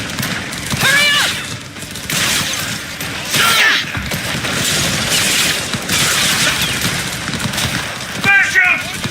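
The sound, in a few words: gunfire in the video game Cyberpunk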